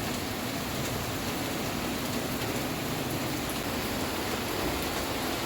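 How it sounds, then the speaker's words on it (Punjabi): Heavy rain falls steadily on a July morning, a dense, unbroken hiss that stays loud and even throughout, with no voices over it. "ਅੱਜ ਫੇਰ ਸਵੇਰ ਦਾ ਹੀ ਬਹੁਤ ਜ਼ਿਆਦਾ ਮੀਂਹ ਪੈ ਰਿਹਾ ਹੈ ਦੇਖੋ"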